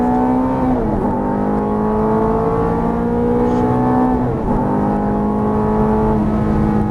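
A Ferrari F430 accelerates out of a curve, its engine a loud steady roar rising in pitch twice with brief dips between gear changes, heard up close throughout.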